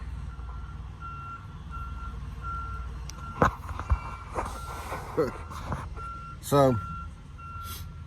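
A truck reversing toward a trailer gives a steady series of evenly spaced backup beeps across the whole stretch, joined by engine rumble, a few clanks and a brief squeal, while someone talks briefly.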